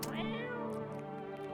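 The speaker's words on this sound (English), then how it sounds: "Can I feed the cat, though?" A single drawn-out cat meow in a video game, close and clear, rising then sustained with a slightly strained tone, alone without talking.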